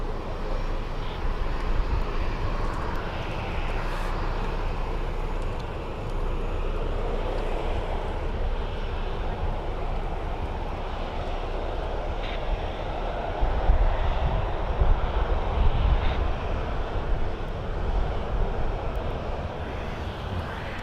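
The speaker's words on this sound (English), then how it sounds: "Got a little GA aircraft holding all the airliners up." A small general aviation aircraft near Birmingham Airport, heard as a continuous engine drone with wind rumble that stays fairly loud and swells slightly toward the middle.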